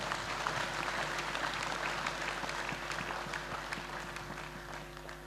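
A church congregation claps and applauds together, a dense sustained roar of hands that slowly eases over a few seconds, with a low hum underneath.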